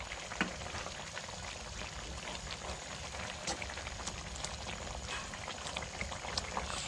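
Shrimp and saime curry with potato simmers in a pot, a continuous soft bubbling and sizzling with scattered small pops, close but quiet, steady across the whole stretch without voices.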